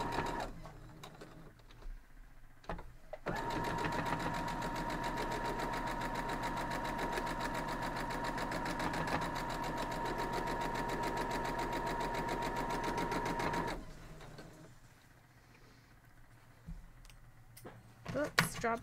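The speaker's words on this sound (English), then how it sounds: "So now we're just going to stitch it straight down." A sewing machine runs steadily for about ten seconds, humming and rapidly clicking as it stitches a seam on a Louisiana pinwheel quilt block, with quieter handling noises and a voice before and after.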